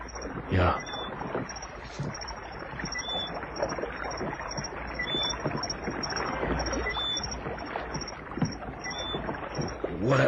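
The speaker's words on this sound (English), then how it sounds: "You'll never hear us swimming against the splash of his oars." Oars splash as a man rows a boat, a steady repeating stroke of dipping and sloshing water close by, with wind and a faint voice now and then.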